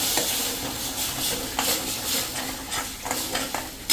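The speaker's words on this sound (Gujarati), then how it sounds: "હવે એમાં આપણે આ 2 ટમેટાની પ્યુરી કરી છે ને એને પણ નાખી દેશું અને મિક્સ કરી" Tomato puree being stirred into a potato curry cooked without onion or garlic, a spoon scraping the pan in steady repeated strokes over a soft continuous sizzle, close and alone.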